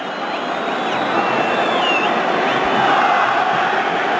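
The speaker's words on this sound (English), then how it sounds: "it's a pretty good crowd, as you'd expect for a meeting like this" Dense stadium crowd roar at an El Clasico between Barcelona and Real Madrid in King Fahd Stadium, a steady loud wash of tens of thousands of fans with rising cheers and scattered whistles throughout.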